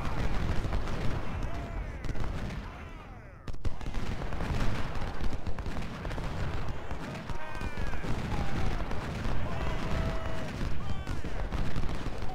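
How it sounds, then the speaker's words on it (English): Cannon fire from a 20-pounder gun in a Civil War battle game, booming shots over a dense backdrop of musketry and battlefield din, with talk over it. "Oh, and this 20 pounder. He's still shooting at him."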